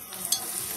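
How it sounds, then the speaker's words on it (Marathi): A spatula stirs ginger-garlic paste in a hot pan for khichadi, giving a short, close scraping sizzle with a few brighter scrapes standing out over a steady hiss. "हलवायचं चांगलं"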